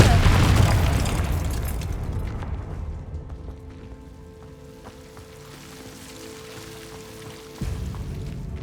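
Confringo fire spell in Hogwarts Legacy bursts with a loud booming blast that crackles and fades into a low rumble, followed by a fresh thump near the end.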